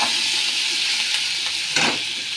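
Onions fry in a pan with a loud, steady hissing sizzle throughout, and near the end a single close scrape of a stirring utensil briefly stands out.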